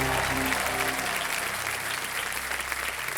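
Sustained applause from the studio crowd at the Kaun Banega Crorepati quiz show, a continuous dense clapping texture holding steady throughout, fairly loud with no voices on top.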